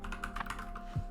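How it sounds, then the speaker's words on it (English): Quick burst of typing on a computer keyboard, several rapid close key taps in just over a second, ending in a heavier thud, with no talking. "we can just type Logic"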